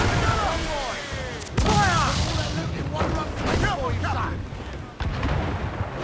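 Ship cannons fire in a naval battle in Assassin's Creed IV Black Flag, with several heavy booms spread across the clip under constant shouted crew commands and battle noise.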